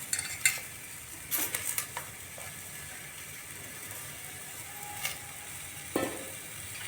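Chopped onion tossed into capsicum and potato frying in a pan, a faint steady sizzle with a few scattered clinks and scrapes of a utensil against the pan.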